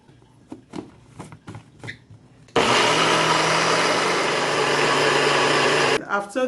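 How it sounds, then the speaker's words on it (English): A few soft knocks and clatters, then a blender blending shredded coconut with water roars loudly and steadily for several seconds before cutting off, followed by brief rattling. "Adding some water to it and allowing it to blend."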